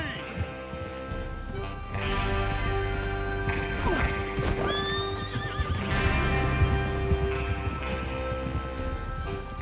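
Horses whinny and hooves clatter over a busy bed of music and ambient game noise in Red Dead Redemption 2, with a loud neigh rising midway and occasional crashes.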